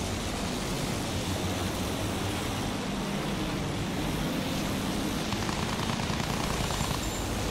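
Fighter plane engines in a Battlefield 1 dogfight drone in a steady, loud, broadband roar that stays constant throughout, with no voices.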